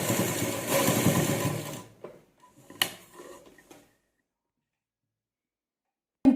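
Sewing machine stitching a neck design, a steady close whirring run for about two seconds, then a few short bursts and clicks as it stops and restarts before falling silent.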